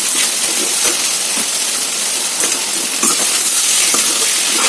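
Ivy gourds are stir-fried in a pan, giving a steady loud sizzle with hiss and intermittent scraping stirs, close by with no talking.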